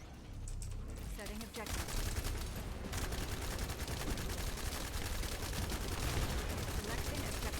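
Sustained rapid gunfire from a gun build in The First Descendant during a boss fight, dense continuous bursts throughout, with game effects layered underneath.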